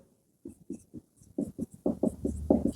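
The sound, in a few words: writing out a sentence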